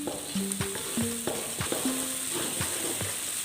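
Ingredients for chicken curry frying in a pan make a soft, steady sizzle. Several utensil clinks and scrapes keep punctuating it, and nobody speaks.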